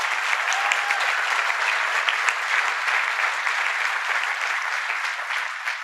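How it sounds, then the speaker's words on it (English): Applause from an audience at a presidential speech on infrastructure, a sustained even roar of many hands clapping, loud and continuous before tapering slightly at the end. "Let's give them a round of applause as well."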